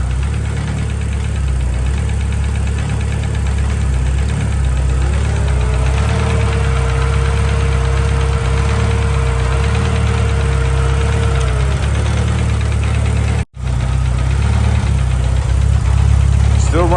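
A turbocharged Honda H22 engine in a CB7 Accord runs steadily, a loud continuous mechanical drone with a faint rising-then-steady whine in the middle, which cuts out briefly near the end before the engine noise resumes.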